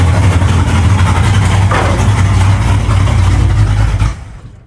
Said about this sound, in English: let's try shutting it off and see if it backfires through the carb again